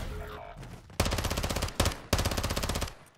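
A teammate fires an MP7 in a video game, three rapid full-auto bursts of closely spaced shots, loud and near, with short gaps between bursts.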